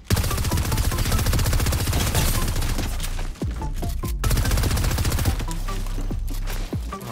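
Sustained bursts of rapid gunfire in the video game Fortnite, loud and close, with dense repeated shots running almost continuously and only brief pauses between bursts.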